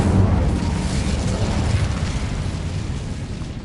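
A dense, roaring blast from an Incendio fire spell in a video game, loud and sustained, rumbling with little change before easing slightly at the end.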